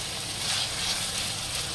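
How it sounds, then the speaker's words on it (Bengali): Chicken curry with potatoes sautéing in a pan gives a steady, even sizzle with a soft hiss, moderately close and unbroken, with no talking. "এটা ভালো করে কষিয়ে নেব।"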